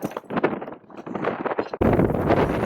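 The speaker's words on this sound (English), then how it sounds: "As you can see in here, it's very windy." Gusty wind in open brush country buffets the microphone with rumbling roars that swell and dip, then turn into a loud, continuous blast.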